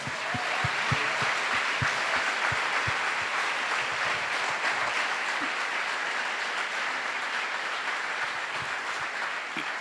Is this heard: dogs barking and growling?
no